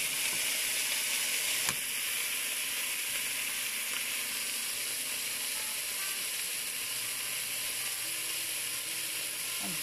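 A tortilla frying in a hot pan as its water evaporates gives a steady, bright hiss that holds evenly throughout, with a faint tick or two under the sizzle.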